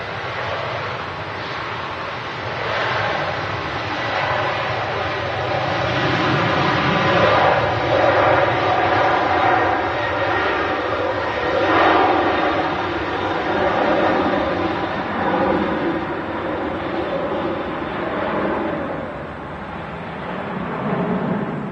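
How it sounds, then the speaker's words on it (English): Aer Lingus Airbus A330 rotating on takeoff from runway 23 left, a broad, steady jet-engine rumble and roar that swells and holds loud for around twenty seconds with no talk. "Real rumble from the Lingus 330 there."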